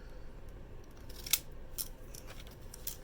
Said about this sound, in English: take this one that just makes little swoops and try and cut